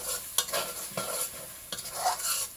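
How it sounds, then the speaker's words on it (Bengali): A spatula scrapes and stirs spice masala in a sizzling pan for beef cooked with giant taro. Irregular stirring strokes rise over a low frying hiss, close up and with no voices. "মশলা ভালো করে নাড়তে হবে"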